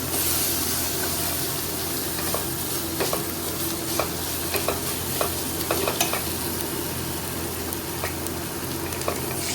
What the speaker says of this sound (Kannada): ನೋಡಿ ಫ್ರೈ ಆಗ್ತಾ ಇದೆ ಆನಿಯನ್.